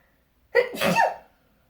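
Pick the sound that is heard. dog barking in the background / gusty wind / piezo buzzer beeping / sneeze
sneeze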